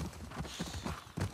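Horse hooves clip-clop at a walking pace in The Last of Us Part 2, a few soft, close thuds over a brief stretch with no talk.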